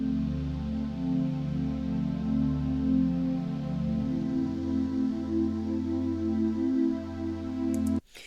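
A layered ambient synth preset in Serum 2 holds a sustained, slowly shifting pad with a deep low octave and a faint noise texture above. It sounds steady and fairly loud for about eight seconds, then stops abruptly, with no talking.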